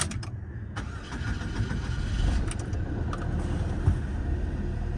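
A Saab 9-3 car engine, newly installed, cranks and catches, settling into a rough, rumbling idle with a few clicks and rattles on top.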